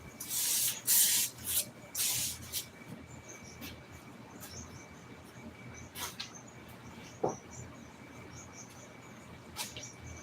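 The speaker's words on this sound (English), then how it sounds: "We're gonna take and spray some" Several short hissing bursts of a spray bottle of carpet cleaner near the start, followed by quieter scattered sprays and faint background noise.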